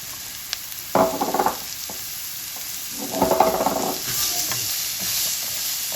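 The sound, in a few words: chopped carrots sizzling and stirred in oil with turmeric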